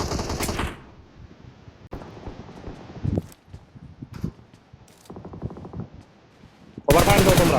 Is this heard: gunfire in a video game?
yes